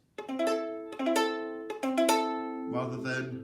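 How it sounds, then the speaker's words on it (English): A ukulele is strummed several times with muffled, dull chords because a fretting finger is not pressed hard enough on the string, close and fairly quiet, with no voice over it. "I reckon there's a few of you out there that have got a really quite muffled sound."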